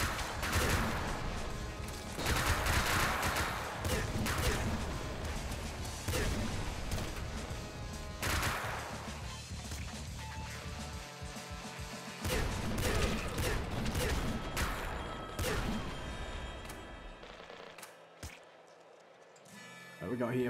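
Dense, rapid weapon fire and explosive bursts from lime grenades and guns in the top-down shooter Nuclear Throne, a near-continuous barrage with booming hits and crashes throughout, loud and busy.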